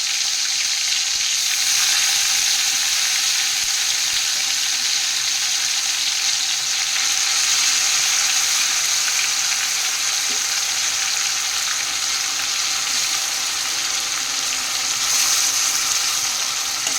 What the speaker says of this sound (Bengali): মশলার সাথে মাছটা মাখিয়ে কিন্তু আমি যে তেলের পরে দিয়ে দিলাম, আর মাছটা কিন্তু ভাজবো না, ওই এপিট ওপিট করে নিলাম তেলের উপরে